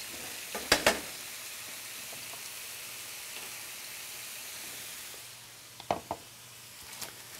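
Vegetables cook down in a pan with a soft, steady sizzle, broken by a few sharp stirring scrapes near the start and again toward the end.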